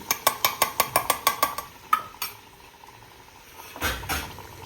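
A spoon clinks rhythmically against a metal pot about a dozen times as chicken pulao is stirred, followed by a few scrapes and a soft clatter.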